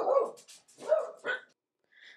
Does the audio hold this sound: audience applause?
no